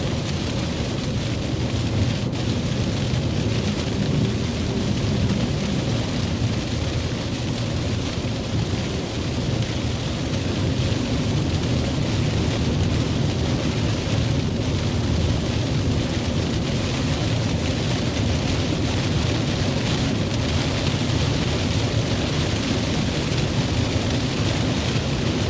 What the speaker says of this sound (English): Dumping buckets of rain out here.